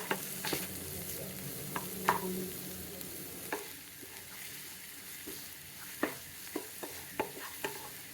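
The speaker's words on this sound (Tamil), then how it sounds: "எண்ணெய் சூடானோன்னு கருவேப்பிலை, கட் பண்ணி வச்சுக்க ஒரு வெங்காயம் நல்லா வதங்கட்டும்." Sliced onion and curry leaves fry in hot oil, a low steady sizzle broken by sharp spatula scrapes and stirring clatters, with no talking.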